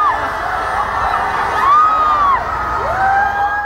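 A street crowd including nuns greets Pope Francis in Morelia with sustained cheering and high shouts and whoops over a dense steady roar of voices.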